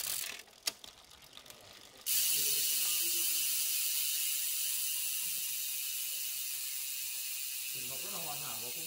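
Carbon touring bicycle with a Shimano Sora groupset, a few sharp drivetrain clicks as it shifts, then a steady ratcheting freewheel tick close by, with brief murmured talk near the end.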